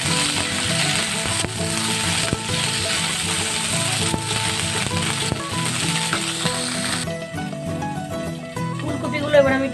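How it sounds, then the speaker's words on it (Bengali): Cauliflower florets fry in hot oil in a pan for dhaba-style Punjabi aloo gobi, a loud, steady sizzle with scraping stirs that eases into quieter crackling near the end. "কপিগুলো আমি একটু লাল করে ভেজে নেব।"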